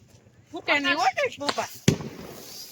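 Voices talk at a Diwali celebration, then a single sharp firecracker bang rings out close by and fades, leaving a faint hiss.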